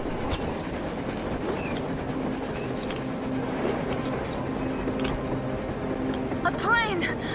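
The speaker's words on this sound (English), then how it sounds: "A train! A damn train on the surface!" A train from the video game Metro Exodus rumbles past with a steady rolling clatter and mechanical hum, with voices heard over it at times.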